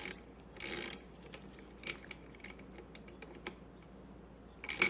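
Singer 66 sewing machine mechanism turned by hand during reassembly, giving soft intermittent mechanical clicks and ticks at close range over a quiet background, with a brief louder rustle early on.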